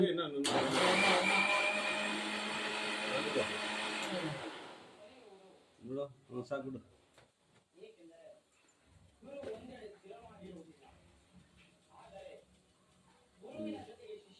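A loud mixer grinder whirs steadily for about four seconds, then cuts off, followed by people talking in a quiet room.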